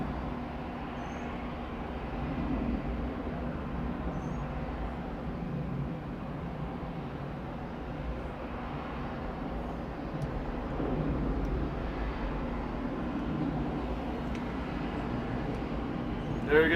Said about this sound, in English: There goes the A330, the one that's taken off.